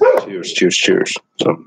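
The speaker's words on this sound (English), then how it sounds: "if you hear my dog in the background" A dog whines and yips in the background while someone speaks close to the microphone, its sounds tangled in and under his talk.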